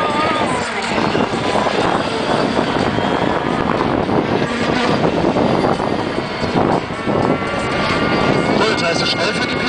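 Racing powerboats roar past on a river course during a race in Dessau, engines droning loudly and continuously with rising and falling intensity, under a commentator talking throughout.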